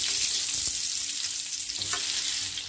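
Chicken pieces fry in hot oil over a medium flame, giving a steady, bright hiss and crackle of sizzling that continues evenly, with a faint clink or two and no talking.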